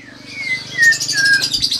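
A white-rumped shama (murai) songbird chirps and whistles up close, its bright rising notes repeating in quick succession over a faint low hum.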